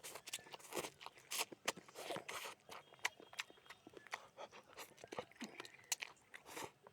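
A cat bites and chews, making faint, irregular crunching and clicking sounds close by, with no talk.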